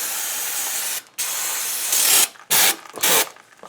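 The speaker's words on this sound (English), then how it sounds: "Clean flow brake and parts cleaner. Non-chlorinated." Aerosol brake and parts cleaner, non-chlorinated, sprayed in a series of bursts while working on Ford F150 rear drum brakes: a long steady hiss, a brief pause, then several shorter, louder blasts, close and with no talking.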